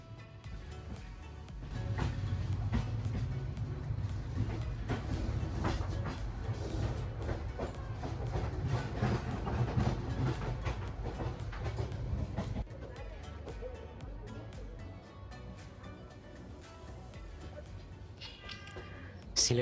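Kalni Express train running on main line rails from Sylhet toward Dhaka in Bangladesh, a steady rumbling rail roar with faint rhythmic clatter heard from on board, easing somewhat in the later part.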